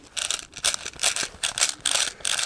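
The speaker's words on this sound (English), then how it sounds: "Right, let's get the mag ready." Airsoft BBs being loaded into a magazine for a CYMA FN F2000 rifle: a quick run of sharp ratcheting clicks in short bursts, close and fairly loud, with no voices.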